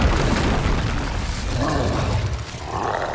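A fire spell cast in the Hogwarts Legacy video game, heard as a loud, sustained whooshing roar with booming low rumble that stays strong for about three seconds and eases briefly near the end.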